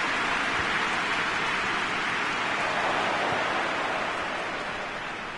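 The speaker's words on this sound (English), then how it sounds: "Just starting to get the first signs of rain here." Steady rain hissing down across a football pitch in PES 2021, a constant broadband wash with no voices, holding level and easing only slightly at the end.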